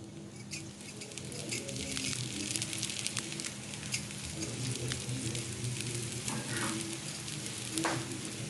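Besan roti cooks in ghee on a hot griddle, giving a steady close crackling sizzle with dense spattering pops throughout, loud and unbroken with no talking.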